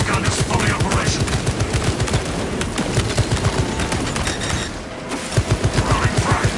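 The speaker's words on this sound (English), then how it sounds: "Repurposing battlefield sentry. Servo gun is fully operational." An automated servo sentry gun in the Warhammer game Space Marine 2, rattling out rapid bursts of heavy fire, loud and close, with a short lull before it opens up again.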